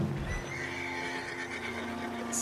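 A horse whinnies briefly at the start in the video game Red Dead Redemption, followed by a faint clip-clop under a steady background hum.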